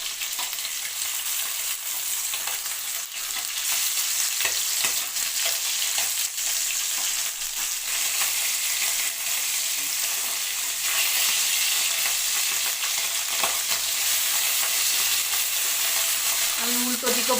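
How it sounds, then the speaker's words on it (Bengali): Parshe fish turned over and frying on the second side in mustard oil, a continuous dense sizzle and crackle held close and loud, with occasional faint scraping, and no talking. "আমি উল্টো দিকেও ভালো করে ভেজে নেব লাল করে"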